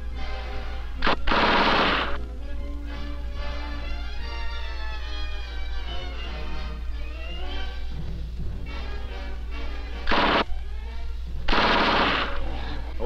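An Army automatic weapon fires in Vietnam in 1969, with several loud bursts standing out over a constant low hum and rough field background.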